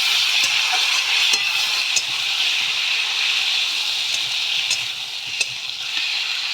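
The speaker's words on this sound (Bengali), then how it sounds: "ভালো করে কষাবো।" Potatoes sautéing in a pan with ground ginger, garlic, onion and green chili paste: a steady close sizzle and hiss, with a few soft stirring knocks scattered through and no talk.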